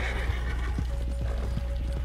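A horse whinnies in the Red Dead Redemption 2 video game, a short neigh over a steady low hum with a few soft clip-clop-like thumps.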